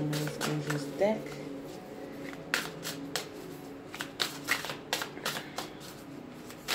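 A deck of romance angel oracle cards is shuffled up close in quick bursts of crisp riffling and tapping, with a person talking over the first part.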